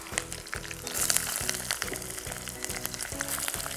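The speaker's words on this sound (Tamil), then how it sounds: "இது வந்து பொன்மூடில் வதக்கணும்" Steady, crackling sizzle of onions and chillies sautéing in hot oil, close and continuous, with faint stirring ticks and no voices.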